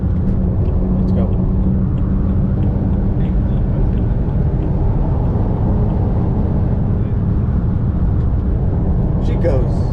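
Naturally aspirated Ford car rated at 195 kilowatts with about 193,000 kilometres on it pulling away, a steady low rumbling engine drone heard from inside, constant and fairly loud throughout.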